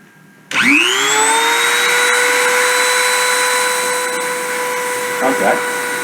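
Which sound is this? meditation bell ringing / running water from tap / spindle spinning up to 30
spindle spinning up to 30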